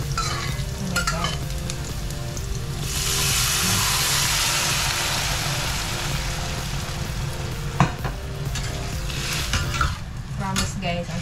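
Continuous crackling sizzle of food frying in a pan, with occasional clinks and scrapes of a utensil stirring, close and fairly loud.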